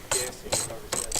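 A ratchet tightening nuts on a BMW 2002 during a K24 engine swap, three quick, close, loud bursts of rapid pawl clicking separated by short pauses.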